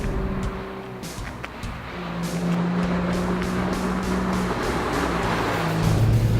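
A BMW 1M Coupe engine drones loudly and steadily as the car is driven hard, with a rising pitch near the end suggesting acceleration.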